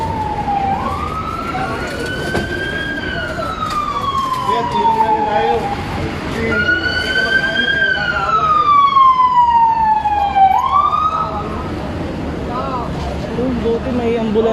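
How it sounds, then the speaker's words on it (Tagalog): An ambulance siren wails in rising and falling sweeps at the scene of a collapsed skyway railing, loud and fairly near, with a low traffic rumble and people talking around it. "Buti may ambulansya na."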